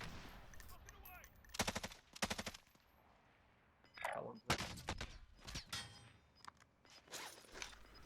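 Teammates' assault rifles firing in Warzone, several short sharp bursts spaced out at mid distance, with a voice talking between and under the shots.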